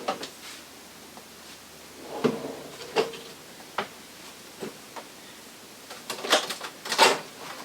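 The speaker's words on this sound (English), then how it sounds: "We get into all the drawers." Motorhome kitchen drawers and cabinet doors open and shut in a series of short wooden clunks and slides, spaced irregularly in a quiet room.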